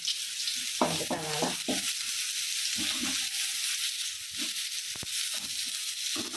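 Coconut oil sizzles steadily in a wok-style pan, a continuous hiss broken by a few soft scraping stirs.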